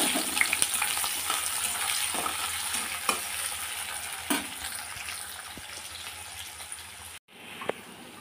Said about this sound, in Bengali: তারপর পেঁয়াজটা আমি সুন্দর করে ভেজে নেব।